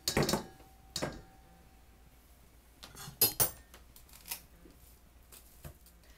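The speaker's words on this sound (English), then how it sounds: "Now I'm going to transfer it into my bowl." Drained spinach scraped and tipped into a bowl with a metal utensil, giving a few sharp clinks and scrapes near the start and a cluster of clattering knocks later, with quiet pauses between.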